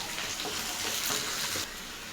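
Chana dal, urad dal and curry leaves frying in hot oil in a pan, a steady close sizzle with faint stirring scrapes, dropping slightly in intensity toward the end.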